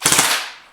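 An airsoft gun accidentally fires on full auto, a quick close burst of about four sharp snapping shots followed by a fading echo, with no voices.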